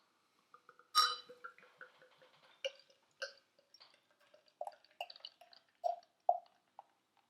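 Salted caramel beer glugging from a bottle into a stylised pint glass, a run of soft splashy pours and drips with small clinks, close and fairly quiet, no talking.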